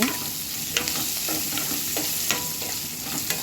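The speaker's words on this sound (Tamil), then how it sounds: "ஆனியன் போட்டு ஆனியன் வந்து நல்லா கோல்டன் கலர் வர்ற அளவுக்கு ஃப்ரை பண்ணிக்கோங்க" Onion frying in oil with curry leaves and garlic for a banana-flower stir-fry, a steady close sizzle broken by a few scraping stirs of a utensil against the pan, no voices.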